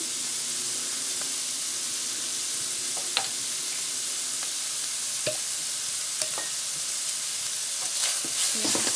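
Pork and mushrooms stir-fried in a pan, giving a loud, continuous hissing sizzle with scattered clicks of a utensil against the pan and a few brisk stirring scrapes near the end, close by and without talk.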